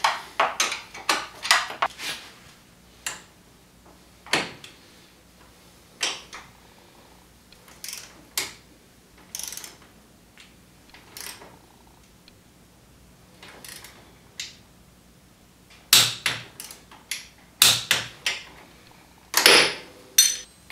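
A torque wrench tightens a front suspension bushing bolt to 35 foot-pounds on a 2015 Arctic Cat Wildcat Sport, giving sharp, close ratcheting clicks in irregular bursts and clusters separated by short quiet gaps.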